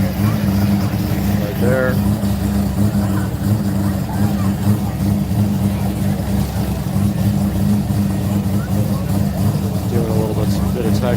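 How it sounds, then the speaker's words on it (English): A rotary-engined Toyota Supra drives past with a steady, loud engine drone and a couple of brief revving rises, close by, while people talk over it. "is that the rotary Supra?"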